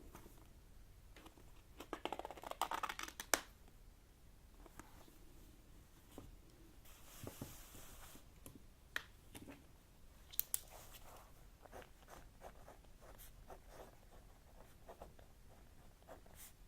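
A pen or pencil scratches across paper in quiet, close-up bursts, soft scribbling strokes with small taps and rustles between them and no voices.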